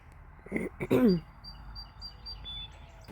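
Faint bird chirps and tweets sound outdoors at a distance, a few short calls scattered over a quiet background.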